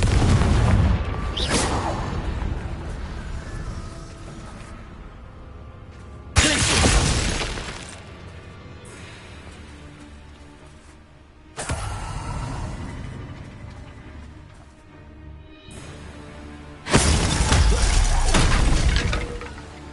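Fiery Confringo spell blasts from the Hogwarts Legacy video game, four loud bursts spaced a few seconds apart, each a sharp explosive crack fading into a rumbling tail over a dense game soundscape.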